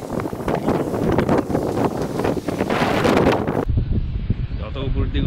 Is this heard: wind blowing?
yes